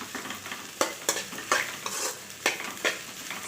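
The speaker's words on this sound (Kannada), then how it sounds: "ಒಂದು 2 ನಿಮಿಷ ಫ್ರೈ ಮಾಡ್ಕೊಳ್ಳೋಣ ಆಯಿಲಲ್ಲೇ" Onions and okra sizzle in hot oil while a spoon stirs the pan, with sharp scraping strokes landing at an irregular rhythm over a steady frying hiss.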